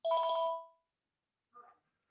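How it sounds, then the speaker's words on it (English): During a lecture, a single electronic phone ring sounds briefly, then after a pause a fainter second chirp follows in an otherwise quiet room. "somebody's phone is ringing"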